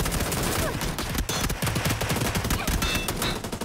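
Dense gunfire from PUBG rattles throughout, with rapid overlapping automatic bursts and sharp individual shots in continuous loud exchanges, close and busy with no voices.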